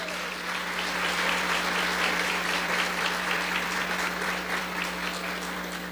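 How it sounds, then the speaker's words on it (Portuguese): A church congregation applauding Jesus during a service, a sustained, full burst of clapping from many hands, loud and steady throughout in a reverberant hall with a low hum underneath. "Vamos aplaudir ao Senhor Jesus."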